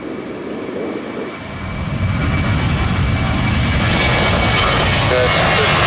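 A fixed-wing airplane taking off from runway 17 at Ford Airport in Grand Rapids, its engine building from a low rumble to a loud, steady broadband roar that holds to the end, with no talk over it.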